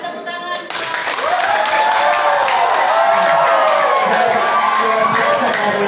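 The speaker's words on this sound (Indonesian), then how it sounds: "Berikan tepuk tangan." A school student council candidate debate crowd applauds and cheers loudly and continuously, with whoops and shouting voices mixed into the dense clapping.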